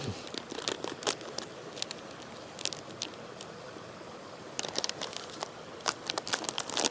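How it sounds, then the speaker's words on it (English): Crinkly plastic of a backpacking water filter bag being torn open and handled outdoors, with sharp bursts of crackling at the start and again near the end, close by and fairly loud. "So you tear that open"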